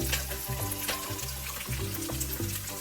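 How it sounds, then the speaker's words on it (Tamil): Spices fry in a pan for country chicken biryani, giving a steady dense sizzle close up with faint clinks and stirring beneath it and no voices. "அதுக்கப்புறம் நல்லா ஃப்ரை பண்ணிவிட்டு"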